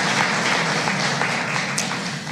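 Dense, continuous applause from a crowd at a Washington gathering of African and diaspora young leaders, many hands clapping together at a steady, fairly loud level throughout with no voices standing out.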